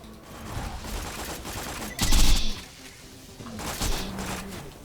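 Bursts of SMG gunfire in Borderlands 2, played as Zer0 on the Digistruct Peak challenge, with a loud volley around the middle and another flurry near the end over a busy game-combat backdrop.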